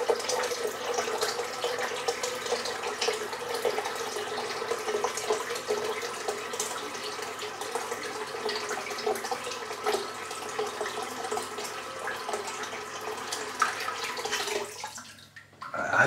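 Tap water runs steadily into a sink while hands are wet under the stream to test the slickness of a kokum-formula soap, a continuous close splashing flow that cuts off near the end.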